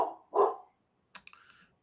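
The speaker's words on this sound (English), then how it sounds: "Dog barking." A dog barks twice, one short bark then a higher yelping bark after a pause, close and clear in an otherwise quiet room.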